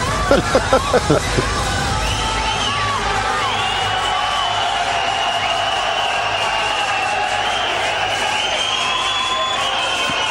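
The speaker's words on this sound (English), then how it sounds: "as we can hear the crowd absolutely getting behind Rick" A Manchester arena crowd roars behind boxer Rick during a bout, with a few sharp shouts at the start before a sustained, loud wall of cheering and babble fills the space.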